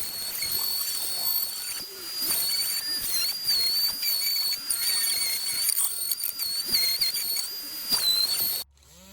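Dense, hissy scraping of sanding inside an Art Deco bar cabinet runs almost continuously in steady strokes, with a thin high-pitched whine riding over it, before stopping abruptly at the end.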